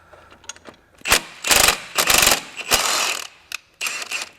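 Ratchet wrench loosening the transmission bracket bolts on a 1997-2001 Honda CR-V, heard as several close, loud bursts of rapid clicking separated by short pauses, with no talking.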